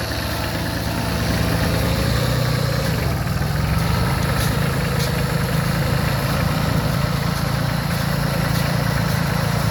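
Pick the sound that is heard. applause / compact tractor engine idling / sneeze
compact tractor engine idling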